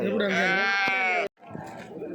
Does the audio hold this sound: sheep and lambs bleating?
yes